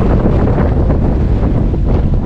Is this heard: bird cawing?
no